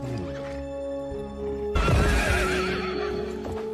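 Several horses neigh loudly and close by, whinnies rising over a steady background drone, followed by a burst of heavy hooves and clattering as the horses arrive.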